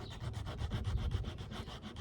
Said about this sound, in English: So that needed to be sanded right there, and it needed to be sanded